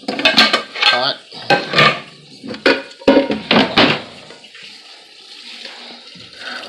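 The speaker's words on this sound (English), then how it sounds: "Rinse it out a little bit." Tap water runs into a cooking pot as it is rinsed out in a kitchen, several loud splashing bursts with metallic clatter, then a quieter steady trickle.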